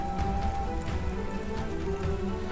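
Pouring rain beats down steadily, a dense, even hiss of drops hitting surfaces that stays constant throughout with no pauses.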